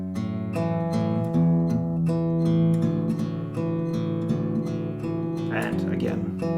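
Acoustic guitar in drop D tuning picks a repeating melody from a song, with clear plucked notes ringing over a sustained low bass note, played close and steady with no voice.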